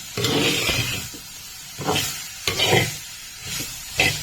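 Padavalanga (snake gourd) and carrot thoran being stirred in a pan, several bursts of scraping and hissing sizzle as the spoon sweeps through, with quieter pauses between strokes.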